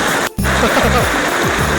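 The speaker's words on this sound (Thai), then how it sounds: "นี่ครับเป็นน้ำตกธรรมชาตินะครับ" A natural waterfall roars close by in a steady, loud, broad rush of falling water, with a brief dip early on and a voice faintly underneath.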